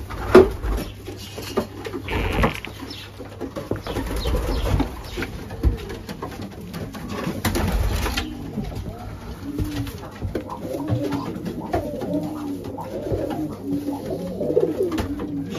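Young racing pigeons in a loft give soft, repeated low coos, clustered more thickly in the latter half, with bumps and rustling around them.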